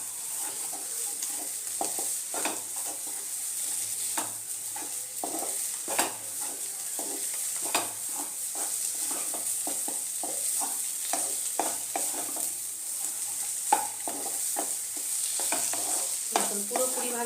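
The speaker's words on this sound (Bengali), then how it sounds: "এটা একটুখানি হাই ফ্লেমে করে ভালো করে একটুখানি ভেজে নেব।" Bean paste with chopped coriander fries over high flame in a pan, a steady bright sizzle running throughout while a spatula scrapes and stirs in frequent irregular strokes, close and clear with no talking.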